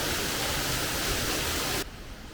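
Waterfall heard from inside a cave, a dense, loud roar of falling water that fills the sound before cutting down sharply near the end.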